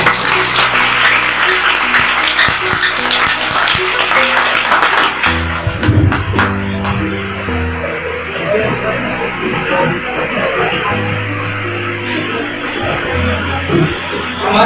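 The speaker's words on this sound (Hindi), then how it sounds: "सब लोग ताली बजाइएगा" Guests at a Christian wedding in Bihar applaud, a loud, dense, sustained clapping from a crowd that carries on throughout, with tonal sound underneath.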